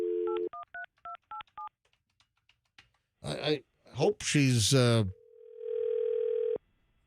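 A short tone, then a quick series of touch-tone dialing beeps, a person talking briefly, and a steady dial-type tone that cuts off.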